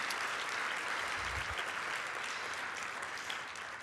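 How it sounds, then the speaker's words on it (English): Sustained audience applause at an MLK holiday program, a dense even roar of many hands clapping, fairly distant and softening slightly toward the end. "Let's give them another hand of applause."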